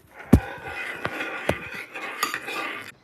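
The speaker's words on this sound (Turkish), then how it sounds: "Şimdi içine tuz dökeyim. İyice ayarını karıştıralım." Ayran, a yogurt drink, is stirred after salt is added, with a spoon clinking sharply against the container four or five times between softer swishing.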